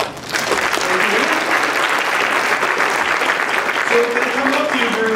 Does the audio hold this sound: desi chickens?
no